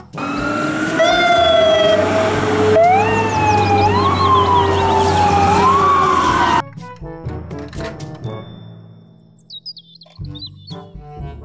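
A loud fire truck siren wails in rising and falling sweeps, then cuts off, leaving quieter mechanical clatter and a brief electronic chirp.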